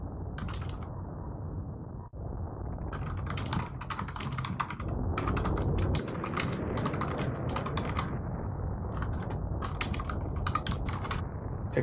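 Clicky keys of a computer keyboard rattle in fast, steady bursts during a game match, close and busy, with brief pauses between runs of typing.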